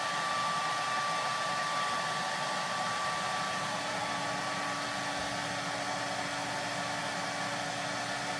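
A hair dryer runs continuously inside an RV powered from a portable power station, a loud, even blowing hiss with a faint hum, with no talk.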